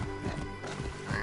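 Horse hooves clop and a horse whinnies in the Assassin's Creed Origins video game, a brief burst of rhythmic hoofbeats under dense game sound with a rising neigh at the end.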